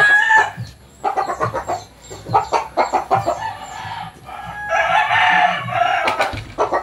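Several gamecock roosters from a fighting line crow repeatedly at close range, their loud, strained calls overlapping with clucks and scratchy rustling in a continuous farmyard chorus.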